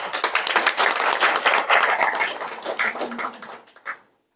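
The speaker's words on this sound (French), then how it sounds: "ça mérite un applaudissement" A crowd applauds a veteran trade union leader at a Comorian union gathering, with dense, steady clapping that thins out and stops abruptly near the end.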